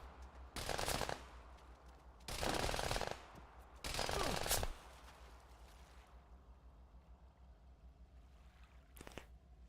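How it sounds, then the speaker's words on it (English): Machine-gun fire in the Warlords Redux video game, three loud sustained bursts about a second each, then quiet and one short final burst near the end. "Shooting at me now."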